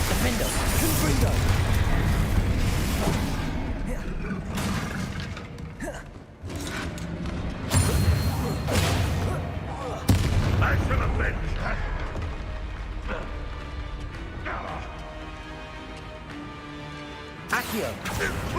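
Spells cast in the Hogwarts Legacy video game, including Confringo explosions, produce layered magical whooshes, mechanical clanks and crashing impacts over a game soundtrack, with a voice speaking throughout.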